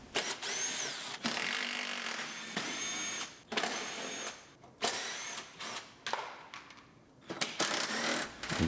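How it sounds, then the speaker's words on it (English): Power tool bolting the fender and bumper on a 2002 Pontiac Grand Am GT during repair, in repeated bursts of whirring drilling with short pauses between them, close and fairly loud. "I'm going to bolt the fender in."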